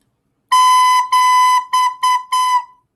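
A recorder plays a short lesson rhythm of five tones, two long and three short, each clear and steady, heard up close without any voices.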